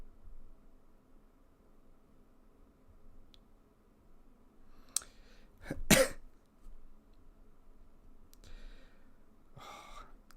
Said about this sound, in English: If that's really loud whenever I cough